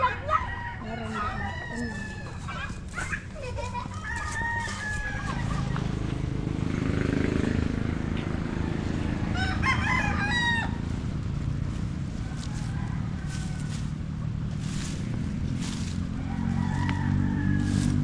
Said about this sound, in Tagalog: Dami palang manok dito.